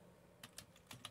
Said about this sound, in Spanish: escribo algo